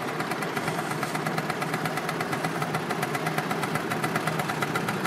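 An old moped engine idles close by with a steady, rattling putter that holds an even rhythm throughout, no talking over it.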